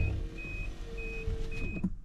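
Inside a 1998 Rover 820ti 2.0L T16, a thin high-pitched chime beeps four times at an even pace as the electric window motor hums and stops, all close and fairly quiet.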